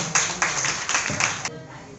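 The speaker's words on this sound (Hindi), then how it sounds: "ताली बजा दो" Audience clapping during a Jain religious discourse in a Gwalior bazaar, a short burst of brisk, fairly close applause in quick rhythmic waves that stops abruptly partway through, followed by a quieter room tone.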